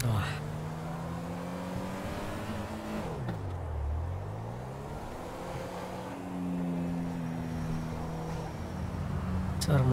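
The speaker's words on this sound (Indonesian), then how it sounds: "Suara mobilnya pelan sih" 2016 Toyota Camry engine in a driving simulator game, a steady engine hum whose pitch climbs, dips sharply as gears change, then rises again, continuous and fairly soft throughout.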